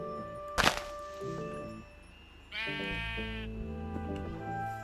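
Sheep bleating in Minecraft, a few synthetic, tonal bleats standing out over game music and a sharp thunk, close and fairly loud.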